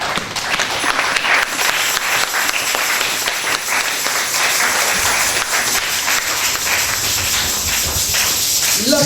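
A church congregation applauds continuously, a dense, steady wash of many hands clapping at close range that carries on without a break and without anyone speaking over it.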